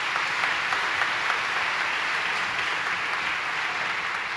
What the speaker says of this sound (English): Let's give our administration and teachers a round of applause.